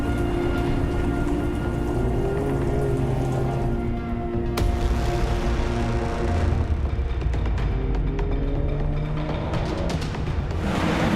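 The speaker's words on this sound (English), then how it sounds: "With the cloud cover in Tuscany, we've had lots of rain at the moment." Steady rain falls at the Mugello circuit in Tuscany under cloud cover, a constant dense wash across the whole stretch with low rumbling underneath and no voices.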